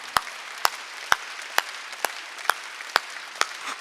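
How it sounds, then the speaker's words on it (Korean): A church congregation at a Wednesday worship service claps hands in unison, about nine sharp, evenly spaced claps on a steady beat over a quiet room. "박수 세게 치라니까"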